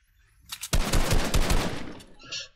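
A rapid burst of close gunfire in the Fortnite video game, several loud shots blurring into one another over about a second and a half, then tailing off into a brief fainter sound.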